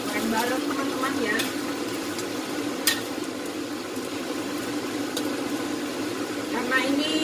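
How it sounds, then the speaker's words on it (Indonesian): Tempeh and boiled chicken gizzards fry together in hot oil in a pan, giving a steady close sizzle with occasional stirring clatter while a person talks over it. "Teman-teman, sekarang ini tempe dan ampela ayamnya. Sekarang saya goreng ya."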